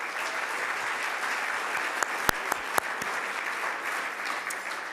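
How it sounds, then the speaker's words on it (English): Audience applause in a conference hall at a mayors' gathering, a steady dense wash of clapping from a large crowd with a few sharp louder claps standing out midway, no voices over it. "She deserves a real round of applause."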